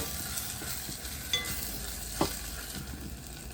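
Cuttlefish curry with curry leaves stirred in a hot pan, a steady close sizzle of frying with a couple of soft scraping stir strokes, no voices.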